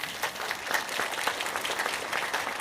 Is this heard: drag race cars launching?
no